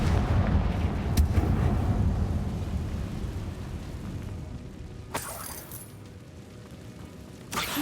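Confringo blasting-spell explosions in the video game Hogwarts Legacy: deep, rumbling booms that roll and fade, with sharper bursts cracking out around the fifth and eighth seconds.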